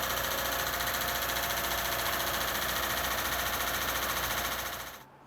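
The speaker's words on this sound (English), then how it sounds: "my Lincoln Town Car I said was bulletproof is making a racket" A Lincoln Town Car engine making a racket runs steadily at idle, a dense rattling, knocking drone that stays loud and constant before cutting off sharply near the end.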